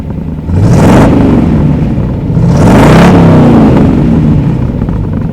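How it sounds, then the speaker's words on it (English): A project truck's engine revs twice in strong, rising surges that fall back between them. The engine idles loud and close the whole time, with no talking. "I'll rev it up a little bit here for you."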